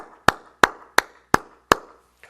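A congregation at a dawn prayer service in a church sanctuary claps together in unison, five loud, sharp, evenly spaced claps close by, with no talking.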